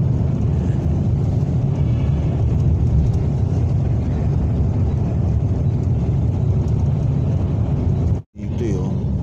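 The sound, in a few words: car traffic on expressway from inside vehicle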